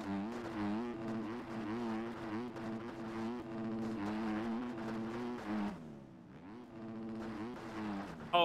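A Yamaha 250F motocross bike engine in the MX Bikes game buzzes steadily in second gear, revving high with brief dips and a short drop near the end, without talk.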